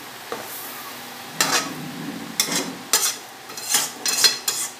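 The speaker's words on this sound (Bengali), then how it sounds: "হ্যাঁ, এই জল দিয়ে সুন্দর করে নাড়িয়ে দেবেন।" Semolina upma being stirred in a pan after water is added, with a sizzle under several distinct scraping strokes of a spoon spaced irregularly, close and moderately loud, no talk.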